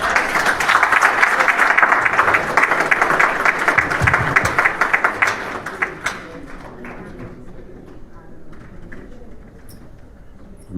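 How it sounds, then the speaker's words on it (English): An audience of Liberian diaspora gathered in Paris applauds the president, a full round of clapping that fades after about six seconds into a quieter room with scattered claps and murmurs. "I want to give the president a better hand of applause."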